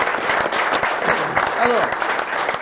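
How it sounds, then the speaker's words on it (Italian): A studio audience of parents and motorcycle enthusiasts applauds steadily, a dense wash of clapping, while a presenter starts to speak over it. "Un applauso a tutti, cominciamo la nostra trasmissione."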